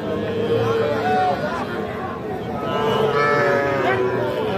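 A young bull calf lows at Aftabganj cattle market, with drawn-out bovine calls close by over continuous crowd chatter and people talking nearby.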